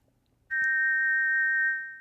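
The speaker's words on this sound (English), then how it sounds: "You put the shiny silver whistle to your lips and forcefully blow into it, producing a loud tweet." A shiny silver whistle is blown once in King's Quest 4 to give a loud, pure, steady tweet. It starts abruptly out of near silence, holds for over a second and fades out.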